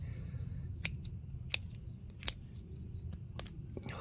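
Pruning scissors snipping juniper branches, giving sharp crisp clicks spaced irregularly about every half second to a second, close up over a low steady background rumble, with no voices.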